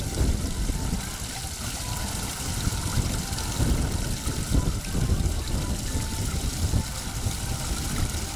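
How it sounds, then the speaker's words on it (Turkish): An artificial waterfall in a fish pond setting pours continuously, a dense steady rushing and splashing of water up close, loud and unbroken, with no talking over it. "son olarak da şelalemizi bir çekelim şöyle"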